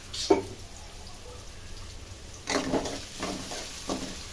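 Onions frying in a pan with salt, a quiet continuous sizzle broken by a sharp tap early on and a few bursts of stirring and scraping later.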